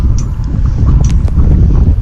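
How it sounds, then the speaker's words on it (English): Wind gusts buffet hard against the microphone on a steep, closed mountain trail in Hawaii, a loud continuous low rumble with brief faint rustles on top, no voices. "The wind was gusting like crazy"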